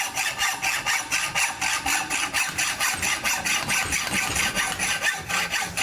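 A hacksaw cuts through metal electrical conduit clamped in a vise, each stroke a quick rasp in a steady back-and-forth rhythm, close and clear with no talking.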